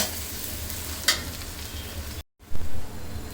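Onions sizzle and fry in oil in a pan for chicken biryani, a steady close crackle broken by a brief pause and a scrape of stirring.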